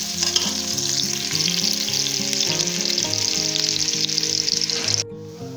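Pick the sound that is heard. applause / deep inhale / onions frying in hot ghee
onions frying in hot ghee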